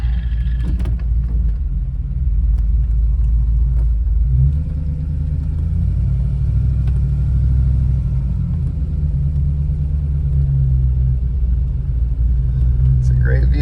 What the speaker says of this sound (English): let's take it for a quick spin around the neighborhood.